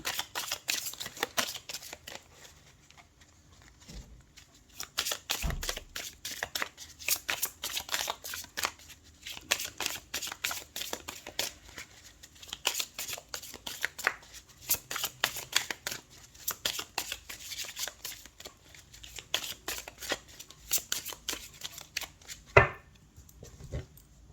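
Tarot cards shuffled and dealt for a reading, a long run of quick papery riffles, flicks and soft slaps, close and fairly quiet, with no talking.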